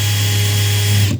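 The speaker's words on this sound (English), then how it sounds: "if you're drilling through something, it's constant speed" A Cobalt cordless drill spins at constant speed in a steady, loud motor whine with a strong low hum, then cuts off abruptly at the end.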